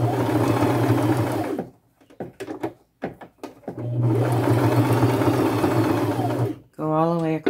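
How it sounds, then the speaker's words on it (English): A sewing machine stitches gold thread onto a boho fringe flap bag, running in long steady whirring passes broken by a pause with light clunks and handling. It is close and loud, with no talk. "I'll probably use gold on the entire bag and get that sewn on."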